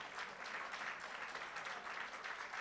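Audience applause at a live talk event, a dense, even patter of many hands clapping together, fairly faint and steady throughout without breaks.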